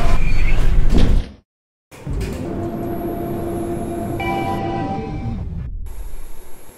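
A Diamond traction elevator in a hotel shopping complex closes its doors with a loud rolling rush. After a short silent break, a steady motor hum and thin whining tones carry on as the car moves.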